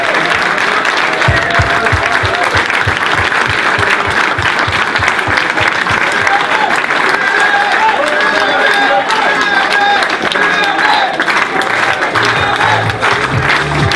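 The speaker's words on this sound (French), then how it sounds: "10 secondes d'applaudissements à Max pour l'Union Rennes Basket 35" Steady applause from a basketball crowd for a departing Union Rennes Basket 35 player fills the hall, dense and sustained throughout with faint voices and some rhythmic clapping early on.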